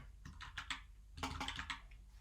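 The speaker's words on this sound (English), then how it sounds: "that was a lot of typing" Quick bursts of keystrokes clatter on a computer keyboard nearby, two short flurries of typing separated by a brief pause.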